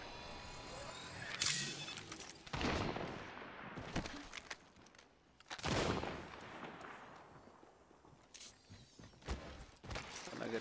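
Gunfire in a shooter video game, heard as a few sharp, fairly faint bursts of shots spread across the stretch with quieter gaps between them, no voices.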